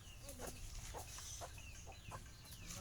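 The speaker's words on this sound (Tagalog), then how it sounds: "May daghan na manok!" Chickens cluck faintly in a series of short, scattered bursts over a soft, low background hum, with no talking.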